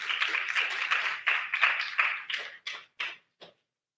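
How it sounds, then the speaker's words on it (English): An audience at a Ghana-Bahamas investment summit applauds the deputy minister, with a burst of close clapping that thins into a few scattered claps and stops by the end. "Let's give him a round of applause"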